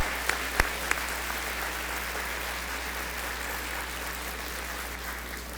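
Steady audience applause at a keynote conference session, a few sharp louder claps at the start, then even continuous clapping from a large crowd throughout.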